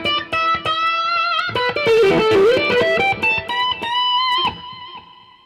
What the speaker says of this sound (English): The delay is turning to reverb.